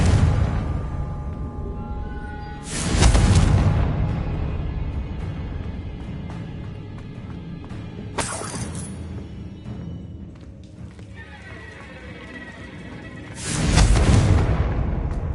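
Confringo spell blasts from Hogwarts Legacy go off three times, each a loud, broad booming burst that decays slowly into a low rumble, separated by several seconds of quieter ambient game sound.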